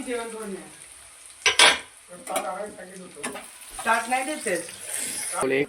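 Three medium onions sizzle in a pan while being stirred toward golden brown for chicken kheema, a steady frying hiss with scraping of the spatula, heard under a person talking.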